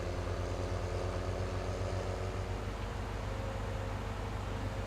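A tractor engine idles in Farming Simulator 17 on the Goldcrest Valley farm, giving a steady, close, low diesel drone with a constant hum that holds unchanged throughout, with no talking.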